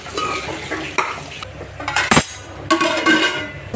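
Spices, including meal maker, being stirred into food in a metal pan, a spoon scraping and clinking against the pan in several bursts over a soft sizzle, close and fairly loud.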